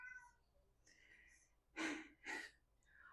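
A house cat gives two short, breathy meows in quick succession, fairly close and loud against a quiet room, with faint soft sounds before them.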